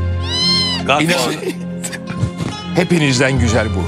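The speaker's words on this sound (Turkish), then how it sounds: "Ay ya, oraya bir de kedi geldi." A cat meows loudly with a rising, drawn-out cry on a TV studio set, followed by someone talking over further faint mewing.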